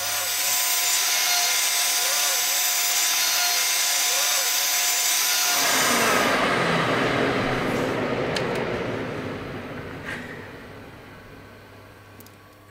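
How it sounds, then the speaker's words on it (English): An old CNC machine cuts acetal plates with a loud, steady whine that grinds on for about six seconds, then eases into a lower, rougher rumble that fades slightly toward the end. "cutting the plates out in stages"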